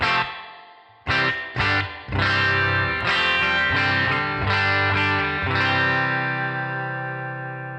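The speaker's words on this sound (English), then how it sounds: "No, it's definitely clipping something." Distorted electric guitar chords strummed several times through a Headrush Spring Guru spring reverb, heavily effected with a gritty, clipping tone and lingering reverb, no voices.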